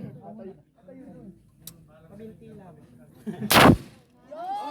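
A single sharp rifle shot cracks loudly during military confidence firing on a range, a brief burst amid ongoing talk and commands before and after.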